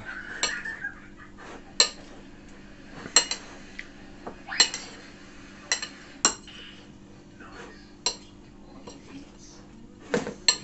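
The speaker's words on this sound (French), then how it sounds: "Je mélange mes crevettes dans l'œuf." Shrimp are stirred through beaten egg in a dish, giving a series of sharp utensil clinks and taps against the bowl at irregular intervals, quiet and close, with soft ambient hum.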